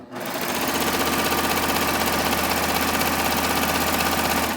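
A sewing machine stitching a rolled hem on a tee at medium speed, a steady, close mechanical whir with a fast regular stitch rhythm that runs continuously with no talking.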